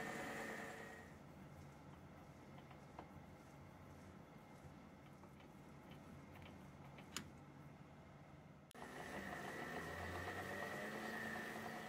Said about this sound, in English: for the trailing crank pins, I do need to turn a shoulder and thread this at 316x40 TPI, which is what I'm doing here